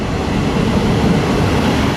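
A train rumbles steadily at a station in Como, Italy, a continuous loud low rolling noise of wheels and carriages with faint rhythmic clatter and no talking.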